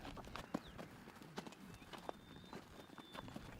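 Horse hooves clip-clop on a trail ride in an irregular patter of sharp knocks, moderately close, over a faint outdoor background.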